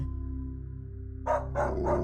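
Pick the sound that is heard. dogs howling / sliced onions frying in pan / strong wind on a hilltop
dogs howling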